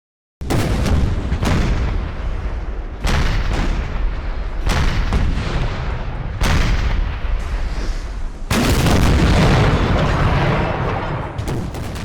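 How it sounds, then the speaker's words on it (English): Cannon artillery barrage from a Battle of Waterloo battlefield: a loud, rumbling series of heavy booms, several distinct blasts roughly every two seconds with the last one swelling into a sustained roar. "He opened up all his 246 cannons to fire on the ridge"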